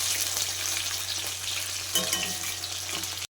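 Pieces of katla fish frying in hot oil in a wok, a continuous close crackling sizzle with some stirring scrapes, no voices, cutting off abruptly at the end.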